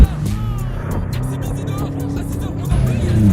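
A drifting car's engine roars steadily with short throttle blips and revving, loud and close, with faint tire noise.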